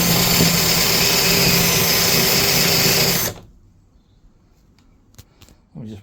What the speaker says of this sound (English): I don't know if this screwdriver, electric screwdriver, is strong enough to drill holes in this